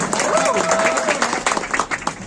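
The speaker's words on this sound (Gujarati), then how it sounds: "એક જોરદાર તાળી એના માટે થઈ જાય" A crowd at a live event in Palitana bursts into loud applause, the dense clapping mixed with voices and cheering throughout.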